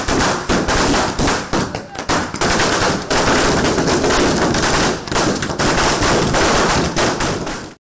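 Firecrackers burst in dense, rapid strings at an AIADMK election victory celebration in Tamil Nadu, loud and nearly continuous crackling pops throughout, with voices mixed in underneath.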